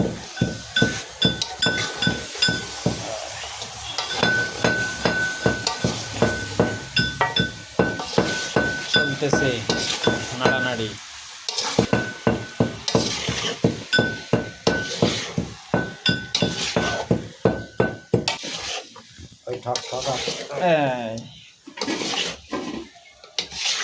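Repeated rhythmic metal scraping and clanking of a spoon stirring chicken in a pot, steady and loud, with sizzling underneath.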